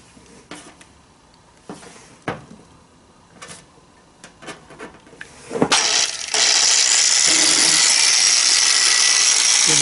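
An ES Industry G1104S variable-speed angle grinder clicks and clatters as it is handled, then switches on into a loud, steady high-pitched whine that holds to the end, close and alone.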